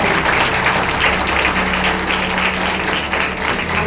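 Loud, sustained applause fills a church gathering, dense clapping from a large crowd continuing evenly from start to finish.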